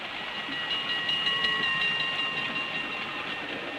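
Railway ambience from the 1929 Laurel and Hardy sound comedy Berth Marks: a steady rumbling train noise with faint whistle-like tones, continuous and evenly loud throughout, with no voices.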